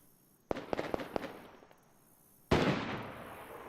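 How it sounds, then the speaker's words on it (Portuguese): Distant gunfire in the survival video game DayZ: a quick burst of four or five sharp shots, then a pause and a single heavier, louder report with a trailing echo. "Foi nesse momento aí que estava passando em Borek e ouvi alguns tiros."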